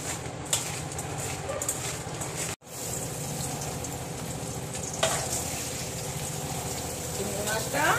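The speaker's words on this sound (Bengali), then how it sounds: "এবার চিংড়ি মাছটা ভাজা করে নিই।" Tiger prawns coated in turmeric and salt fry in hot oil in a pan, giving a steady dense sizzle with a few clattering stirs and one brief dropout, close and continuous.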